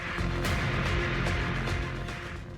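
Flood water from heavy rain surges over a culvert on an overflowing drain, a loud continuous roar and rush of water that fills the scene without pause.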